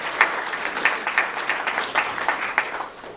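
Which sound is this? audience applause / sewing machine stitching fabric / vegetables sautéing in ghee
audience applause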